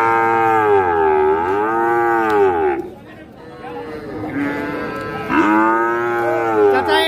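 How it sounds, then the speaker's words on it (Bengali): Cattle lowing loudly and close at a livestock market where medium-sized bulls are sold, two long drawn-out moos with a short gap of crowd murmur between them. "আমরা এখন মাঝারি সাইজের গরুগুলো দেখাতে চাই।"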